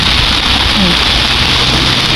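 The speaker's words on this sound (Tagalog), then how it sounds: "so kusog kayong ulan kana" Heavy rain falls steadily as a typhoon approaches Dapitan City port in the Philippines, a loud, dense, unbroken hiss filling the whole clip.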